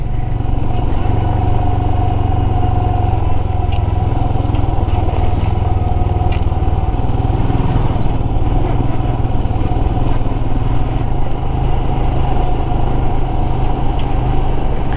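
Steady, loud engine drone and rumble from a vehicle moving along a muddy, slippery dirt road through forest in Simlipal National Park, Odisha, with faint clatter over the continuous motor noise.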